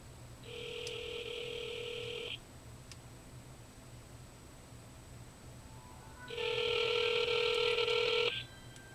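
A phone places a call with two long, steady electronic tones separated by a quiet pause of several seconds, clear over a low background hum.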